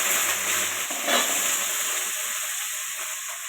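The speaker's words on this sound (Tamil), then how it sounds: "இப்போ வரமிளகா 4 ஆட் பண்ணிக்கலாம். இப்போ சின்ன வெங்காயம் ஆட் பண்ணிக்கலாம்." Dried red chilies and shallots fry in hot oil in a pan, a steady close sizzle with a brief louder crackle burst early on, then settling into an even hiss.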